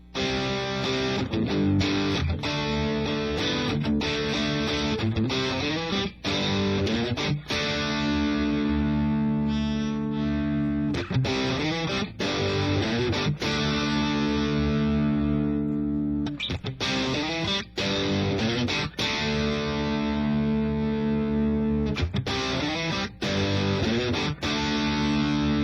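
Heavily distorted electric guitar on a coil-tapped bridge pickup rings out in a long passage of sustained chords and riffs, loud and gritty with short breaks between phrases.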